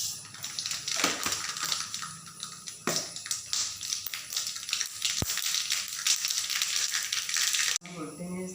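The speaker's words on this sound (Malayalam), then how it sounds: "കടുക് ഇടട്ടെ." Mustard seeds sputter and pop in hot coconut oil in a pan while an onion thoran is being made. A loud, dense, continuous crackling fills the clip and stops abruptly near the end.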